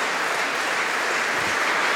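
A crowd at a 2019 World Championships men's singles table tennis match applauds steadily, a dense, even wash of clapping with no voices.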